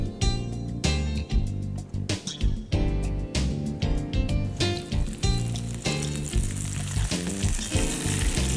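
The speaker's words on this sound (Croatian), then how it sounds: "stavimo peći u tavu na obično ulje." Seasoned chicken fillet frying in plain oil in a pan, loud close spitting and crackling that pulses in uneven bursts throughout, no talking.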